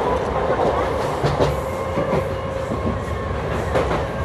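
The Ahmadpur-Katwa MEMU train runs steadily on rails, a loud continuous onboard rumble with rhythmic wheel clatter and a faint squeal.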